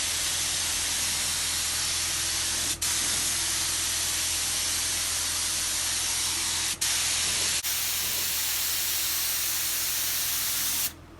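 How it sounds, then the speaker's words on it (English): Spray gun laying down a steady coat of paint on a 1967 Dodge Coronet, a loud continuous hiss running for long stretches with a few very brief pauses in the trigger. "Time to shoot some paint here. Laying down real nice."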